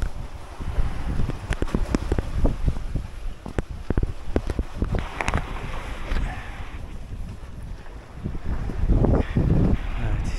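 A MacGregor sailboat named Doris sails off Hisar, with strong wind buffeting the microphone over rushing water and hull noise, steady and loud throughout, with no voices.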